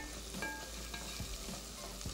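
Turmeric and red chili roast in oil in a kitchen pan, giving a steady soft sizzle with occasional scraping stirs of a spoon; no voices.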